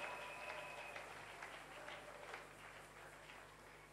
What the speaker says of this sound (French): On acclame alors très fort pour cette parole.